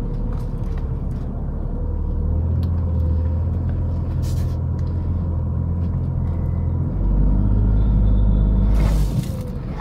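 A 2020 Tata Tigor automatic car climbs uphill, its engine giving a steady low rumble that swells louder toward the end, heard from inside the cabin with no talk.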